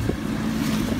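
A motorboat pushes through choppy water beside a green buoy, with a continuous engine drone, wash of waves and buffeting wind noise, close and steady.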